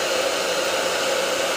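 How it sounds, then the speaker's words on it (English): A hair dryer blows steadily over a watercolor painting of a blueberry, a loud, close, continuous whooshing hum with an even airy rush and no pauses or voices. "I might hit mine with a hairdryer really quick just to make sure it's all the way dry"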